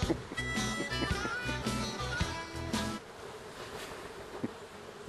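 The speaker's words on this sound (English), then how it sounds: "These are fairly quiet bees." Calm honey bees buzzing close by among tupelo trees in Florida, a dense droning hum that continues steadily, slightly louder at first and then settling lower.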